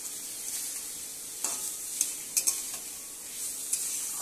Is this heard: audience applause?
no